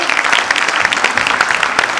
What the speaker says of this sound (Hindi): एक भरपूर तालियां आनी चाहिए